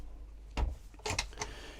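A cutlery drawer under the stove of a compact Sunlight V60 motorhome slides open with a soft rumble, followed by a light rattle of metal utensils shifting inside, close and fairly quiet.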